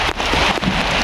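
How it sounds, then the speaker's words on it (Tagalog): Heavy rain pours down in a dense, steady hiss, loud and close, with a few brief dips in intensity. "Sobrang lakas ng ulan."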